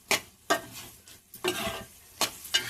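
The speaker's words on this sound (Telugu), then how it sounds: "టమాటా ముక్కలు వేసి ఫ్రై చేసుకోవాలి." Tomato pieces frying in a pan give a low, quiet sizzle broken by five sharp scrapes and taps of a spoon against the pan, spaced unevenly.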